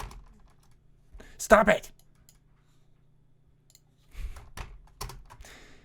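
Computer keyboard typing while working in Unreal Engine 4 with C++, a short quick burst of keystrokes followed later by a few scattered taps, with a brief spoken outburst in between.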